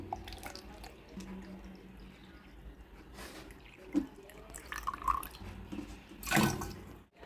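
Kapila theertham holy water being poured into a container, soft running and dripping sounds with a few louder splashes near the end, faint and close.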